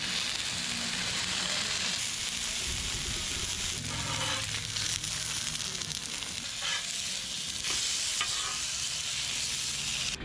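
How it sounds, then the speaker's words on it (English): Steaks sizzle and fry steadily on a 17-inch Blackstone griddle, a loud, constant hiss with occasional crackles and scraping stirs, without any talking. "It's time to put the steaks on the grill."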